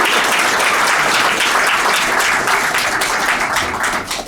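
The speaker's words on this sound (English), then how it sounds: "Yeah, you can clap." Guests at an economic development corporation's annual founder's reception applaud, a loud, dense wash of clapping that holds steady and tapers slightly at the end.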